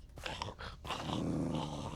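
A dog growls in a modded video game, a low rumbling snarl with a quick yip near the start, fairly faint under steady game background noise.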